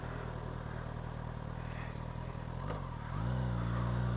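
Motorcycle engine running steadily while riding, then dropping in pitch as the bike slows under front and rear braking, with wind noise and a low idle thrum near the end.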